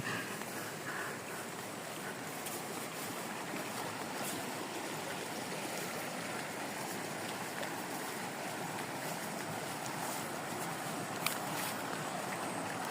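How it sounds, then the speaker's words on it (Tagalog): Waterfall on a hiking trail to the 21 Falls in Senator Ninoy Aquino, Sultan Kudarat, pouring in a steady, dense roar of rushing water that stays constant and fairly close throughout, with no talk over it. "Ito yung unang waterfalls."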